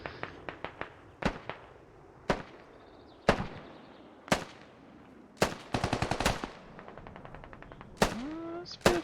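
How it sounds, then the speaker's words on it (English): Gunfire in the Squad video game: sharp single shots and rapid automatic bursts crack in irregular clusters, some loud and close, others fainter, with brief echoing tails between them. "What's Felix shooting at here?"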